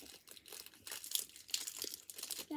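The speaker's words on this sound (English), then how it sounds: "I need to unwrap them" Crinkly wrapping is unwrapped close up in quiet surroundings, with a steady run of sharp, papery crinkles and rustles and no voices.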